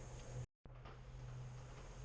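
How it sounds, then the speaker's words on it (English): Steady rain falling outside a garage workshop, a low, even hiss that fills the background, briefly cut out for an instant before continuing at the same faint level, with no one talking. "The noise you hear is rain."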